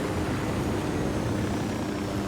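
Helicopter in the video game Ghost Recon Wildlands, a steady loud rotor and engine drone holding evenly throughout with no talk.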